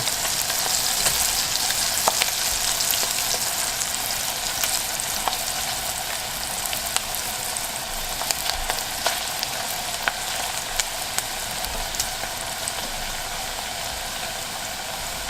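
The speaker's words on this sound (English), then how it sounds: "As that's frying up" Steady, busy sizzling and crackling of chicken skin frying in a hot skillet, with scattered pops throughout and no talking.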